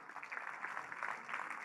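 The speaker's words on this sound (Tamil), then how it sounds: "அந்த முயற்சிக்காக ஒரு அரங்கம் நிறைந்த கைத்தட்டலாம்" Applause from a packed hall at a Tamil Nadu government skill development event, a steady, fairly faint patter of clapping that carries through without a break.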